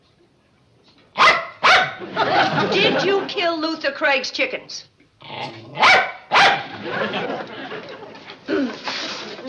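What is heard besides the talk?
dog barking and growling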